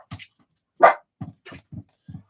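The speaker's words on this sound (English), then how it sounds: "he's a little bit barky" A dog indoors gives one short, fairly loud bark amid scattered softer yips and huffs, close by and otherwise quiet.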